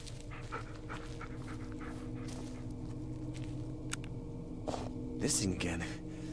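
A puppy in the horror game Blair Witch pants and whimpers amid a steady ambient game backdrop, with a brief sharper yelp near the end, while a person talks over it.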